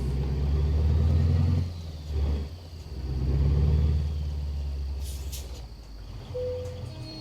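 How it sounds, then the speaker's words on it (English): Truck brakes in American Truck Simulator, heard under a loud low engine rumble that dips and swells as the truck slows, followed by a brief hiss of air near the end, with no talk. "Love those brake sounds."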